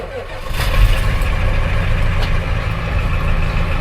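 A 1989 Ford F-350 diesel truck with a manual transmission pulls away from a stop, its loud, steady low-pitched engine drone rising slightly as it gets moving and holding even throughout.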